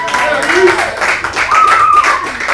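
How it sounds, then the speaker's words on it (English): Applause from a talk-show studio audience, a steady wash of clapping hands that holds for a couple of seconds with voices and a tonal whistle-like sound riding over it. "Give everybody a big round of applause."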